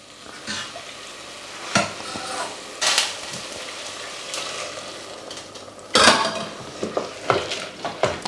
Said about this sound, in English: we're now ready to start adding the stock